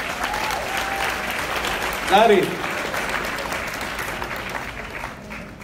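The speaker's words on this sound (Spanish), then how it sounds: "Vamos a recibirlo con un fuerte aplauso." Loud audience applause in a hall welcomes a youth-of-the-year award nominee from a Boys & Girls Club in Puerto Rico. It runs steadily throughout, with a brief swell of cheering and a voice calling a name over it.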